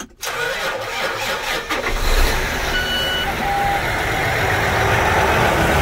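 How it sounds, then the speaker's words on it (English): A John Deere 9560RT tractor with a 13.5-liter engine cranks briefly and fires, then settles into a loud, steady close-up idle. "we're gonna start with the 9560RT John Deere"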